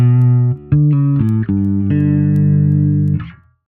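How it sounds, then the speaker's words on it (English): An electric guitar through an amp, then a flanger placed after it in a Helix setup, plays a short series of sustained chords. The tone sweeps with a metallic shimmer, and the final chord rings loud before cutting off abruptly. "and then I'm going to the flanger."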